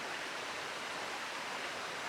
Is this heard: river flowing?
yes